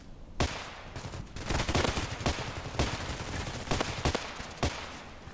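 Repeated gunfire in a sniper video game, loud sharp shots and short bursts cracking at irregular intervals over a dense, noisy battlefield din with no voices.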